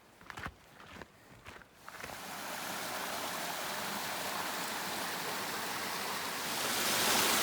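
Snow-melt mountain creek flowing in the Pacific Northwest, a steady broadband rush of water that starts after a few faint footsteps and grows slightly louder toward the end.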